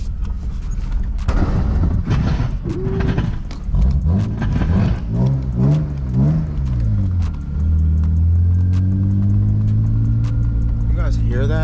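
A BMW E36 on the move with a harsh scraping noise from underneath, mixed with a steady engine drone that rises and falls as it accelerates, heard close and continuous throughout.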